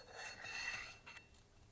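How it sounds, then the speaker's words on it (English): An old gasket is scraped off a pump's rear cover, producing faint, close rasping and rubbing strokes, one longer scrape followed by a couple of short ones. "Remove the old gasket from the rear cover."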